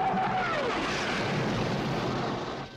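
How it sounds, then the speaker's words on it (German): A jet aircraft sound effect from a 1985 He-Man animated film, a broad, loud roaring rush that holds steady as the jet closes in, then thins at the end. "Der Jet kommt direkt auf uns zu."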